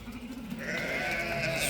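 Sheep and young lambs of about 12 to 13 kilos, offered for sale, bleat together in a steady, dense chorus that grows slightly louder toward the end, with no talk over it.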